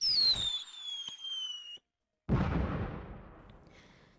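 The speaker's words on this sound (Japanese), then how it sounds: "渋谷の上空になぜか打ち上げ花火が上がった。" Fireworks launch over Shibuya at night in the sound novel game Machi: a rising whistle, a short pause, then a loud booming burst that crackles and fades away, with no voices.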